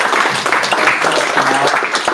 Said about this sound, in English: a round of applause for Kunal